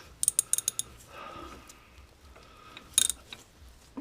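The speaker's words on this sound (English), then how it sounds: "I've turn my ratchet all the way around, so just tighten it up." A hand ratchet clicks in short bursts while tightening the gear lever linkage on a 2004 Vauxhall Corsa C, with quieter metallic creaks between two clusters of sharp clicks.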